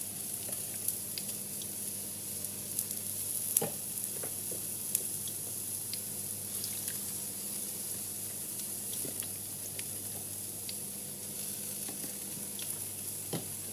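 Onions, courgette and tomatoes sizzle in a pan as they are stirred, with a steady, fairly quiet frying hiss broken by small scrapes and clicks from the utensil, and no talking.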